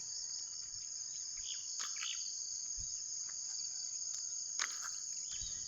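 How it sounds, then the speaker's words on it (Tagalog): Crickets chirp at dawn on an open grassy field, a steady high continuous trill with a few faint bird calls and soft passing noises beneath it. "panginin nyo, huni ng kuliglig,"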